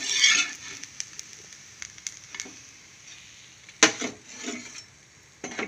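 A dosa fries on a hot pan with a loud hiss at the start and another sharp sizzling burst later, between scattered light clicks and scrapes of a utensil, with no talking.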